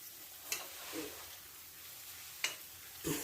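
Liver roast frying and being stirred in a pan, a faint steady sizzle with a few soft scrapes of the spoon at intervals, quiet and close, no voices.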